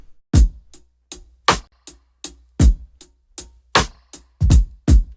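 A punchy drum break with kicks and snare hits in a tight, syncopated groove, loud and dry with no other instruments.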